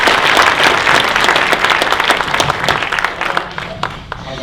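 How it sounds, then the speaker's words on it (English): An audience at a DevOps conference talk breaks into a loud round of applause. The clapping is full and continuous at first, then thins toward the end as individual claps trail off. "Let's have a round of applause for Magnus."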